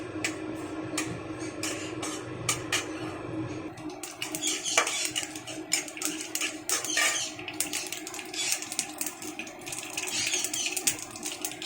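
Mustard seeds tempering in hot oil crackle and spit in scattered, irregular pops and clicks that grow denser partway through, quiet and close with no speech.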